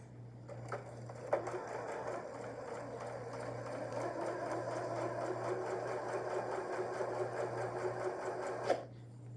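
A Janome sewing machine sews tote fabric with quarter-inch seams, a steady close mechanical whir and rhythmic needle chatter starting and stopping with soft clicks, no voices over it.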